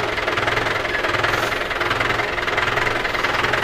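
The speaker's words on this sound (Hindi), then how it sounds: "अब ट्रैक्टर हो गया लो गियर में" Tractor engine running with the gearbox shifted into low gear during field preparation: a loud, close diesel idle with a steady low knocking pulse throughout, heard on its own without talk.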